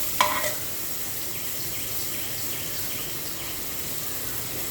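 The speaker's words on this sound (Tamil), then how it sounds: "எல்லாம் சேர்ந்து நல்லா வதங்குற மாதிரி நல்லா கிண்டி விட்டுக்கிட்டே இருக்கணும். வெங்காயம் வதங்க ஆரம்பிக்குது." Onions sautéing in a pan for a ground-masala chicken curry give a steady, even sizzle throughout, with one brief utensil tap at the start and no voices.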